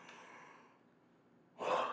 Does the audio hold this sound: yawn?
yes